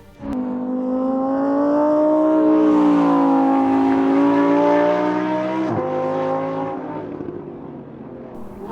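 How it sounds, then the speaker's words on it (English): A Lamborghini Huracan EVO supercar engine in Bahrain revs loudly and close, its tone climbing and holding high before dipping and easing off toward the end, with no talk over it. "The engine noise is to die for"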